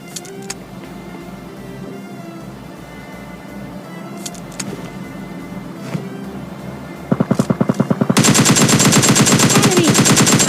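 Squad firefight in PUBG Mobile Lite: rapid automatic gunfire bursts break out after a stretch of quieter game ambience, then turn into a loud, dense, continuous barrage near the end.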